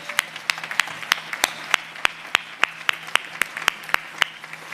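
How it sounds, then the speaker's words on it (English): Audience applause at a Veterans Day breakfast, heard as a steady run of sharp, evenly spaced claps close by over a soft background wash, continuing for several seconds without talk. "Give them a great round of applause."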